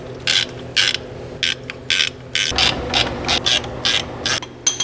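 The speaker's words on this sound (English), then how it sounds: "I'm gonna start rotating this around, applying our stud nuts." A ratchet tightens stud nuts on a 1968 Ford Mustang convertible, with many short, close bursts of quick clicking repeating in an uneven rhythm, some of them running closely together.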